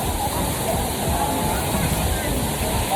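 Ellewela waterfall in Sri Lanka roars as a steady, loud, broadband rush of falling water, unbroken and close, filling the whole short stretch.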